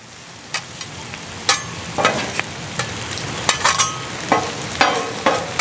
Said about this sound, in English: let's check on these onions and mushrooms